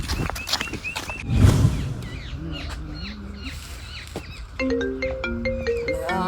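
A phone ringtone chimes in a steady melodic pattern near the end, following a few seconds of lively chatter and scattered background noise.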